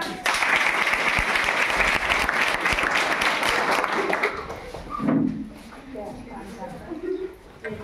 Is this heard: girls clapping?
yes